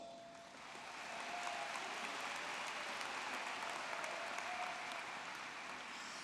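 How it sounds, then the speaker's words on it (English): A commencement audience of University of Tampa graduates applauds in a large hall, a steady wash of clapping that swells after a brief start and holds evenly throughout, with no one speaking. "Give yourself a round of applause"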